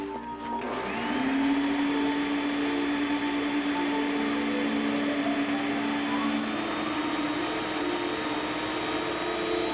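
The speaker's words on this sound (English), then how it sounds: "and a vacuum cleaner" A vacuum cleaner starts up and runs as a steady, loud whine with a constant motor drone, holding evenly for several seconds with no voices over it.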